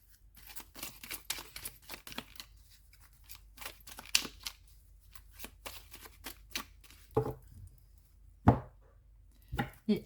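Lenormand cards being shuffled by hand, a run of crisp riffling and slapping bursts up close, uneven in rhythm, with a few sharper flicks and taps, quiet overall and no talking.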